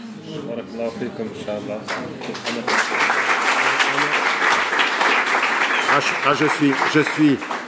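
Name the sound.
audience applause at a talk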